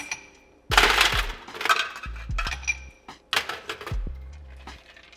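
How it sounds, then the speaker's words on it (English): Several ice cubes clatter and clink into a glass in quick bursts, close by, with short pauses between drops. "add some fresh ice to my glass."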